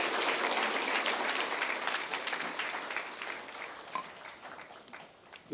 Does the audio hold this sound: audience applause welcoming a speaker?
yes